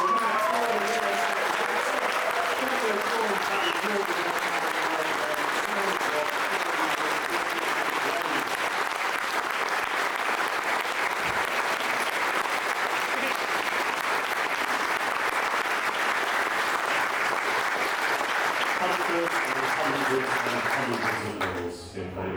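Sustained audience applause at a miniature painting awards ceremony in Bristol, a dense steady wash of clapping from a large crowd for over twenty seconds, with faint voices beneath it early on before the applause fades at the end.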